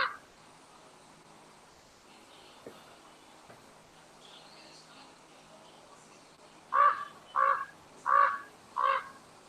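A quiet background gives way to four harsh raven caws in a quick, evenly spaced series, fairly loud and clear.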